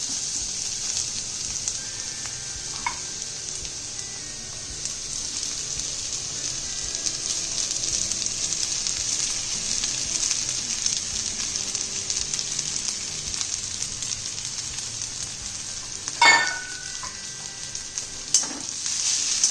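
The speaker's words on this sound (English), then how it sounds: "this is literally like a Maharashtrian fried rice where you have to stir fry this on high flame" Marinated rice with a touch of asafoetida stir-fried over a high flame, giving a steady close sizzle with occasional scraping and clinking strikes from the spatula, no voices.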